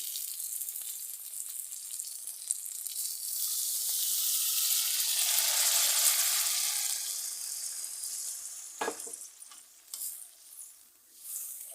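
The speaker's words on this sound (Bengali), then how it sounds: "কষানো হয়ে গেছে দু মিনিট মতো কষেছি তেল ছেড়ে আসছে" Masala for a pineapple hilsa curry sautés in oil with a bright, steady sizzle that swells to a loud hiss midway, then eases, with occasional spatula scrapes near the end.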